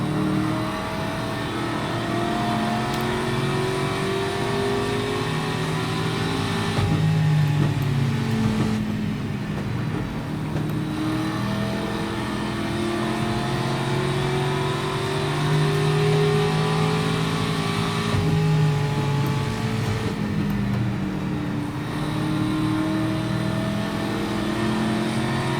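A race car engine drones steadily through laps in a racing video game, its pitch repeatedly rising and falling with acceleration and gear changes, loud and continuous throughout.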